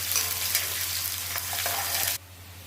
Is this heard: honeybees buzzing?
no